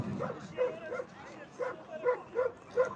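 Several Kangal dogs, including young dogs, yipping and barking in short repeated bursts at a Kangal competition, fairly close, with whimpering mixed in and some background noise.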